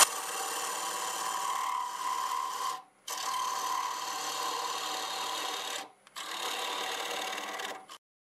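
Wood turning on a lathe, a tool taking down and blending a small glass-shaped piece: three steady raspy cutting passes, each a few seconds long and separated by short pauses, close and fairly loud with no talking.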